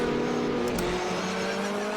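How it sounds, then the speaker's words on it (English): Loud, steady engine roar heard from inside an Alfa Romeo 155 Ti race car at Bathurst, a constant buzzing drone with no talk over it. "the engine note is quite loud in this car"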